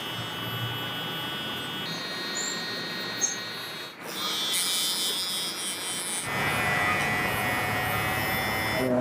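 Electric hair clippers running steadily through a haircut, giving a continuous buzzing whine that shifts in pitch and texture as the blades move through hair, fairly close and with no talking.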